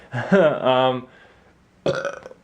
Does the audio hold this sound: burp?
yes